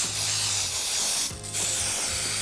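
Cleaning product is sprayed onto a dirty football boot in a steady, close, loud hiss, with a brief break midway before spraying resumes.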